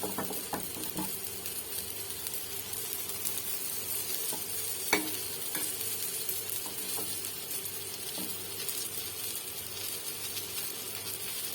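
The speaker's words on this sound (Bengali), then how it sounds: "এবার দুপুই লাল লাল হয়ে যখন ভাজা হয়ে যাবে" Sattu paratha frying in a pan, a faint, steady sizzle with occasional light clicks and one sharper tap midway, no voices.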